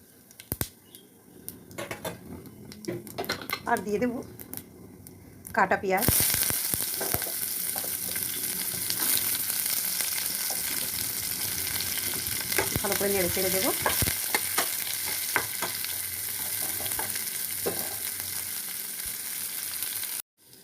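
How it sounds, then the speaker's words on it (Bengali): Dry red chillies, bay leaf and whole cumin sizzle in a small amount of oil in a pan, a loud continuous hiss that jumps up sharply partway through, with occasional stirring clinks and scrapes. "খুব কম তেল দেবো আগে আমি অনেক তেল দিয়ে দিয়ে পটলটা ভেজেছি আর এখানে দুটো শুকনো লঙ্কা দিয়ে দেবো লঙ্কা দুটো ফাটিয়ে দেবেন"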